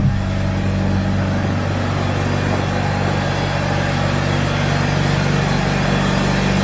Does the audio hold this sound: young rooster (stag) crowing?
no